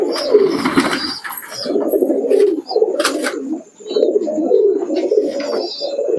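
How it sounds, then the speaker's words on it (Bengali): Pigeons coo at night in a rain-soaked loft, giving close, repeated low throaty coos in short bursts separated by brief pauses. A few faint chirps and rustles come in between. "রাতে সব কবুতরগুলোকে মোটামুটি খাইয়ে দিলাম"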